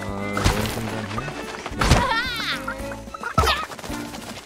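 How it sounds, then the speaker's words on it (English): Cartoonish chickens cluck repeatedly in the New Super Lucky's Tale video game, with loud, close bursts of clucking and squawks arriving in uneven clusters alongside faint game thumps. "More chickens."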